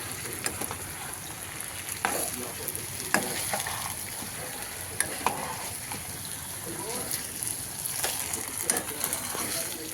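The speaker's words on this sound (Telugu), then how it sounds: "వెంకీ ఇవాళ స్పెషల్ ఆలు ఫ్రై అయితే చేస్తున్నాడు" Potatoes for aloo fry sizzle in a pan while being stirred, giving a steady hiss broken by sharp scraping and clinking strokes, close by and moderately quiet.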